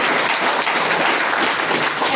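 Audience at a political town hall gives a continuous burst of loud, dense applause, with many hands clapping at once throughout.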